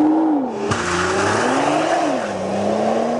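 A 2013 Nissan GT-R Black Edition engine roars loudly and continuously during a hard launch-control start, pitch climbing and dipping through gear changes, with no one talking.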